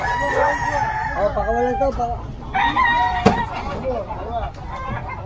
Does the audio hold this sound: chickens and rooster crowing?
yes